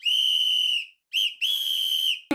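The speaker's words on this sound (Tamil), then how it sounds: "Beep whistle." A censoring beep sounds as a steady, loud, high-pitched electronic tone in three sustained bursts separated by short gaps, ending with a brief sharp click.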